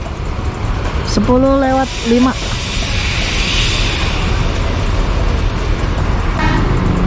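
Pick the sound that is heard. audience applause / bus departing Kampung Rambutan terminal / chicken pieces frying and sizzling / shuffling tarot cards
bus departing Kampung Rambutan terminal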